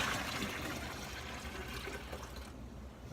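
Sterilized liquid pours into a winemaking fermenter, making a close, continuous splashing, gurgling stream that tapers slightly toward the end.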